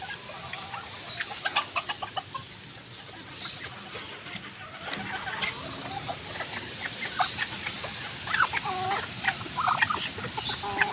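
Chickens and chicks clucking and cheeping close by in a wet backyard after rain, a steady mix of short clucks and peeps that grows busier toward the end.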